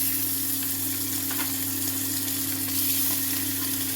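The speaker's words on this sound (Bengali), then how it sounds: "কড়াইতে তেল গরম হয়ে গিয়েছে এবার এক এক আমি মাছগুলো ছেড়ে দেব" Fish sizzle as they go into hot oil in a wok, a continuous crackling hiss with a low steady hum beneath and no talking.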